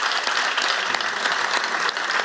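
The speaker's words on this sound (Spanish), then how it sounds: "yo les pido un aplauso para nuestro conferenciante." A lecture-hall audience gives a short burst of applause for the speaker after a talk on Spanish history, many hands clapping briskly and fairly close, with no talking over it.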